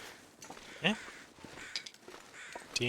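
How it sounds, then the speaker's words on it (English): Crows caw in the snowy wilderness of the survival game The Long Dark: a couple of harsh, distinct calls, one early and one near the end, over a quiet, faint ambient background. "I'm going to instead inspect where I believe those crows are circling over."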